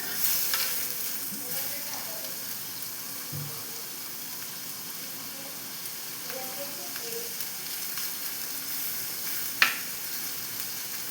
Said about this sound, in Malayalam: ഇത് എണ്ണ ചൂടായി വരുന്നതോറും ചിലപ്പോൾ ഇതൊന്ന് തെറിക്കാൻ സാധ്യതയുണ്ട്